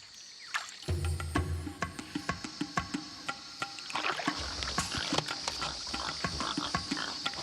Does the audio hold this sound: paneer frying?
no